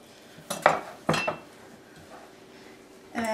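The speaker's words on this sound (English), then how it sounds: "as you can see I'm going to chop that up to make it a little bit easier to go into my" Sliced beef chopped with a knife on a board for a cowboy dip, giving a few sharp, close knocks and scrapes spaced over a couple of seconds, with a quieter clatter toward the end.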